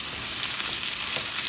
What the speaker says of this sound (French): Et on va le faire revenir avec l'oignon.